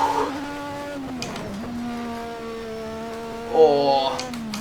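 An F1 car runs flat out through a fast final-sector section of track, its high, buzzing engine note held steady and loud, with a brief dip as it shifts gear before climbing again.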